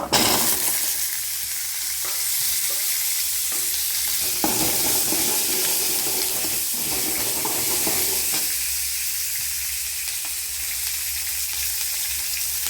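Ginger and onion frying in a pan for a chutney give a steady, close sizzle, with occasional stirring clicks and scrapes over a continuous hiss.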